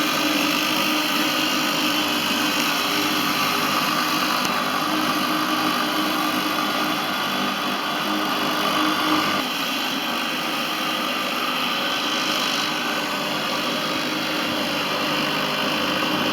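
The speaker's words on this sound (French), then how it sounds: "Voilà donc le petit ventilateur d'intérieur à air très frais." Small fan motors in a homemade air cooler built over ice-filled bottles whir steadily and close, a constant high-pitched hum with no pauses.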